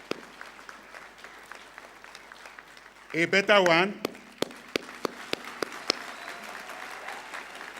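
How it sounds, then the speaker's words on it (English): Graduating students receive applause at the International University of Management's 18th graduation ceremony. Dense crowd clapping runs underneath a speaking voice, with a brief louder vocal burst midway and scattered sharp claps trailing off near the end. "Shall we give them a round of applause?"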